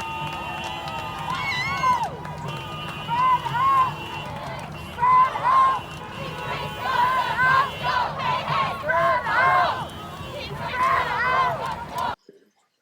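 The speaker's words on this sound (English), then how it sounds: "the march started moving and ultimately made their way onto the Interstate 94, where they started marching west. Crowd moves onto 94." A large protest crowd marches onto Interstate 94, heading west, with loud chanting and shouting in rhythmic bursts and sustained yells over a constant crowd rumble. The sound stops abruptly near the end.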